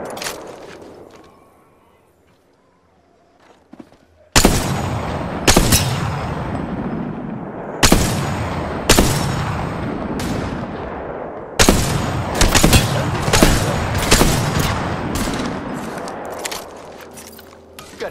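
Gunfire rips through an Apex Legends match: after a quiet opening, loud close shots burst in irregular clusters and rapid volleys, with a faint voice and movement sounds underneath.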